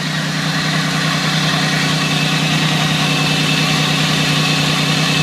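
A car engine idles steadily after its transmission lines have been replaced, a constant, fairly loud mechanical hum with a rough low rumble and no voices throughout.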